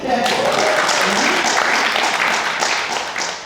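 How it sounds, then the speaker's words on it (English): Audience clapping at a college event on Asian experiences in America, steady dense applause that holds loud and then begins to taper, with a few voices underneath. "can we get a little clap for that?"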